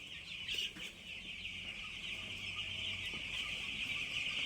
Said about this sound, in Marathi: किती कोंबड्या आपल्याकडे बघितल्या का?